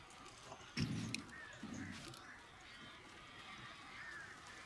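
Birds in the video game Alan Wake: harsh, crow-like caws burst out in two loud flurries early on, then fade into a low, rustling ambience with faint chirps.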